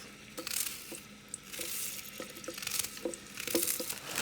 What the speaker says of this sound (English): And I'll just saute it for 2 or 3 minutes.